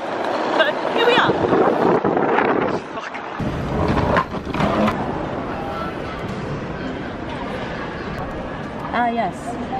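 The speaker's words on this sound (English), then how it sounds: "It's a bit windy." Gusty wind buffets the microphone outdoors, a loud, continuous low rumble with surges, while voices talk over it throughout.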